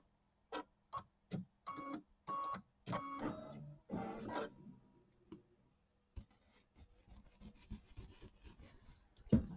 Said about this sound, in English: Okay, so now we're going to trim this close to the stitches.